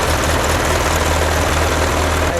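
A red 1909 Delage Voiturette engine idles steadily at close range, a loud, even low throb with a rapid regular pulse and no talk over it.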